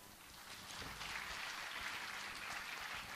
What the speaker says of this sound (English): Parents, please take this opportunity to applaud them.